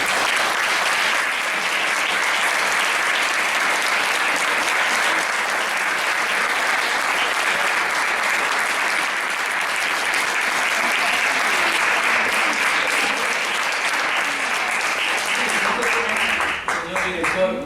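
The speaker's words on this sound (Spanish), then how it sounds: "tienen que deshacer los aplausos porque hay una pregunta" Audience applauds steadily after a talk at an AGBA 2016 lecture, dense sustained clapping from a large crowd that holds loud for nearly the whole stretch before thinning at the very end.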